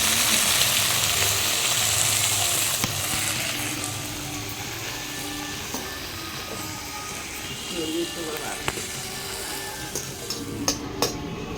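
Coriander leaves fry in oil in a kadai with a steady crackling sizzle, loudest at first and then settling, with a few sharp clicks and taps from utensils later.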